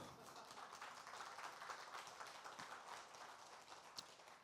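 Audience applause fills a small Korean concert hall, a steady dense clapping that holds at an even, fairly faint level throughout with no voices over it.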